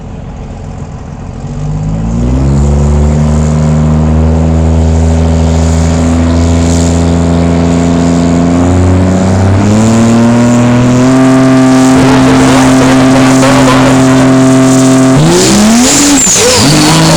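A diesel Pro Street hot rod in the 5.90 class of an Outlaw Diesel Super Series drag race makes a pass, its loud engine revving and climbing through shifts with steady roar and brief tire chirp, close and alone.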